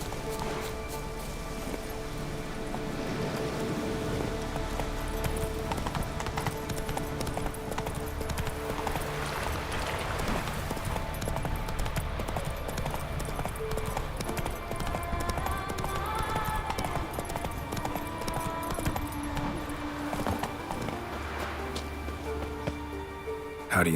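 Roach, a horse in The Witcher 3: Wild Hunt, clip-clops steadily along in a long rhythmic run of hoofbeats over game music and ambience, with a brief whinny midway.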